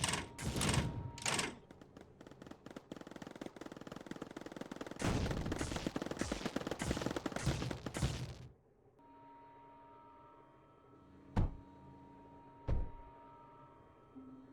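Turrets fire in the Mindustry video game, rattling off dense rapid bursts of gunfire that stop abruptly, followed by quieter ambient hum and a couple of isolated sharp shots.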